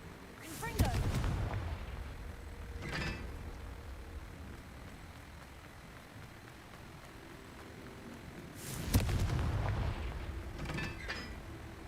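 In the Hogwarts Legacy video game, two booming blasts from a Confringo fire spell go off several seconds apart. Each is loud and sharp with a short rumbling tail, and steady ambient game sound runs between them.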